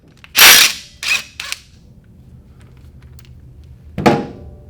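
A rusty starter cup on a small engine from a trashed four-wheeler breaks loose with a few sharp, loud metallic cracks close by, followed by a quiet pause and one more crack.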